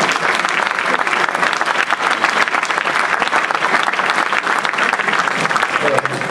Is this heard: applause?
yes